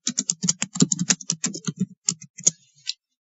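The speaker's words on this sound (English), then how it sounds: "type a login banner." Rapid, close clicking of keys on a computer keyboard, a quick burst of typing that slows and stops after about three seconds, with no talking.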